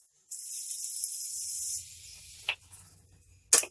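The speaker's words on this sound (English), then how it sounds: "I'm going to use the Morphe setting spray." A long hissing burst of Morphe makeup setting spray lasting over a second, followed by two short sharp spritzes, close and isolated with no talking.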